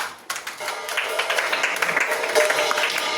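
A church congregation claps together in a steady, dense burst of many hands, filling the room evenly for a few seconds after a brief quieter start.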